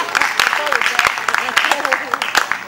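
An audience at a French stand-up comedy show breaks into close, uneven clapping with sharp individual claps, while a voice talks over the applause.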